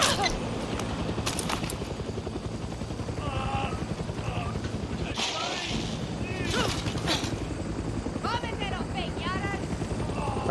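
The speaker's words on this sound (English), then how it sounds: "Alright, where's the chopper?" A helicopter drones through the Far Cry 6 video game, a heavy rhythmic rotor chop running throughout alongside scattered gunfire bursts and game effects, with a voice speaking intermittently over it.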